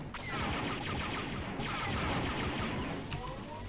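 A repeater weapon fires in the Star Wars: Dark Forces video game, a dense, continuous crackle of rapid shots lasting a few seconds at moderate volume, with a couple of sharper impacts.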